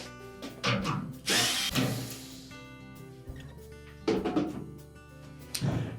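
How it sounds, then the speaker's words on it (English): Power driver backing out two 5/16 hex head screws from the front panel of a Whirlpool washer, in short bursts of close whirring with brief pauses and clicks between them, no talk. "next we're going to remove two 5/16 hex head screws that secure the front panel to the cabinet"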